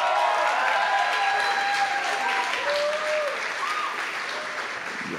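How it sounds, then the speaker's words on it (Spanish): At an end-of-year music school concert, the crowd gives sustained applause for the evening's presenters, a thick even wash of clapping with a few whistles and scattered cheers, slowly tapering. "un aplauso, Tato Contino y Cindy Masters."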